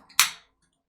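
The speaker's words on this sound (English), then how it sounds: "As I crack open this can of liquid crack" Can of Nos energy drink snapped open close up, one sharp crack with a short fizzing hiss that dies away fast.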